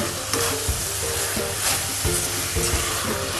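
Steady sizzling from a hot wok while a thick grated coconut and sugar mixture is stirred, with scraping strokes recurring every half second or so, close and fairly loud.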